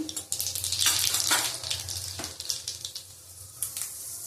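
Hot oil sizzles and crackles close by in uneven bursts as a bay leaf and black cumin fry, rising sharply a few times before settling to a lighter spitting.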